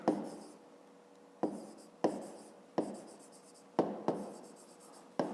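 Pen strokes writing out a math solution in a notebook, a series of sharp, close scratching bursts that each fade off, about seven or eight across the stretch, with no voices.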